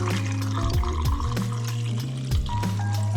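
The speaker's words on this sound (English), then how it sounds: "After 3 minutes, I poured out the contents and added the Blix." Blix film developing chemical is poured into a developing tank, making a continuous gurgling, trickling liquid sound close by with shifting glugs and pitch changes as the container fills.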